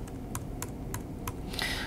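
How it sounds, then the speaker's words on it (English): Name typed on a computer keyboard, five or six separate light key clicks spaced at an even pace, with a faint low room hum underneath and no talking. "The first of which is to enter Jane's name using the keyboard here."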